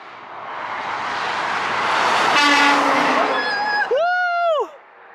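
A loud train horn blares as a train rumbles past, its long honk rising then cutting off abruptly.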